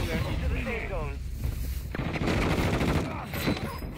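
Dense rapid gunfire and explosions from the video game Warzone 2, a continuous chattering barrage, with players talking over the combat throughout.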